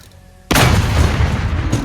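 A PzH 2000 self-propelled howitzer in a video game fires a high-explosive round: a sudden, heavy close-range blast breaks a quiet lull, then a loud rumbling roar sustains and slowly decays.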